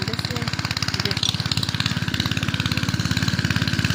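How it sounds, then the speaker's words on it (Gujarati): A tractor engine chugs steadily while building bunds in a farm field, a close, even rhythmic thrum with no pause. "તો મિત્રો ફાઇનલી મિત્રો ટ્રેક્ટરથી પારા બાંધે છે।"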